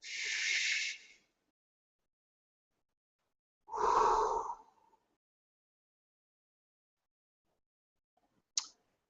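Two slow, deep breaths, a long airy inhale followed after a pause by a fuller exhale, close and quiet in an otherwise silent room, ending with a brief click.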